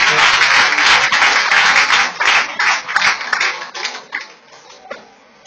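A church congregation at a worship service applauds loudly in dense, continuous clapping that thins into scattered claps toward the end.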